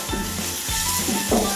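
Onions frying in a pan with ginger-garlic paste, a close, even crackling sizzle with bursts of stirring and no voices over it.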